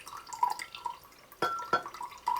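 Kikkoman less sodium soy sauce is poured into a container for pickling portabella mushrooms, a few soft drips and trickles with small splashes, close and quiet, with no talking.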